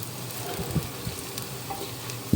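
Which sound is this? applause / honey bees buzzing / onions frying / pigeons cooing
onions frying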